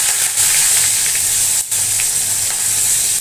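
Curry leaves dropped into hot oil already crackling with mustard seeds and a pinch of asafoetida, on a low gas flame, give a loud, steady, close sizzle and hiss that runs throughout without talk.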